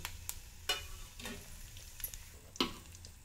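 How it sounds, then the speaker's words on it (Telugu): Mustard seeds, cumin, dried chillies, garlic and curry leaves frying in hot oil for a Telugu coriander and tamarind chutney, giving a steady soft sizzle broken by several sharp pops and crackles. "ఇప్పుడు ఆవాలు కర్ర, కొంచెం జీలకర్ర, 2 ఎండుమిర్చి, వెల్లుల్లి రెబ్బలు, కరివేపాకండి."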